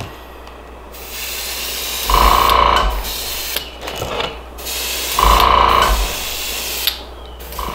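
Airbrush spraying Createx Opaque White base coat onto a crawfish crankbait lure, with a close, steady hiss of air in several bursts of roughly a second each, separated by pauses and small mechanical clicks.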